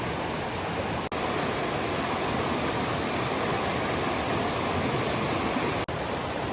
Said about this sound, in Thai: ตอนนี้น้ำเยอะมากๆนะแล้วก็ไหลเชี่ยวกราดเลยนะทุกคนนะ